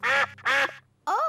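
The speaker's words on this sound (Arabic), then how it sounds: "أوه، إنهم البط." Cartoon ducks quack three times in the Peppa Pig cartoon, loud and close: two nasal quacks in a row, then a short pause and a higher third quack.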